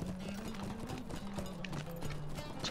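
A horse is ridden in the video game Lord of the Rings Online, its hooves clopping in a quick, steady rhythm under a low continuous hum, fairly quiet.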